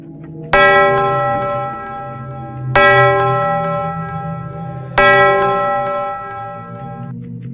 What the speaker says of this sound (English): The bell on the wall struck 10 times